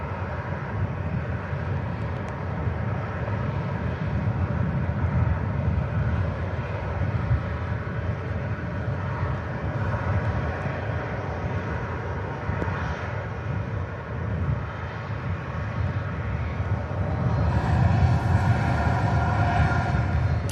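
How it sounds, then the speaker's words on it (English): An Emirates Airbus A380 takes off, a loud sustained broadband jet roar holding steady throughout and swelling slightly toward the end, with no voices. "Emirates A380 next to go."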